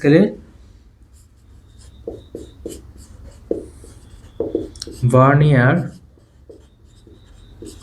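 Chalk or marker taps and scratches across a board in short bursts, with a person speaking between strokes and a louder stretch of talk near the end.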